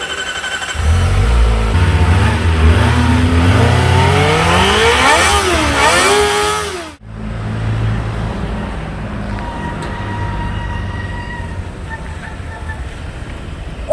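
A Kawasaki ZX25R motorcycle engine revs hard in rising and falling sweeps against the rev limiter, loud and close, then cuts off abruptly and settles into a lower idle rumble.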